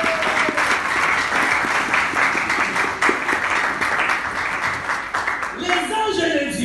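A church congregation applauds, dense continuous clapping from many hands that fills the room at steady loudness, with voices mixed in, before thinning out near the end.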